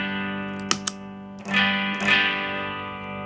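Electric guitar played through a Run Off Grove Supreaux Deux pedal in an almost clean mode, with a sustained chord and light crunch, plus a few picked attacks and swelling notes that ring out.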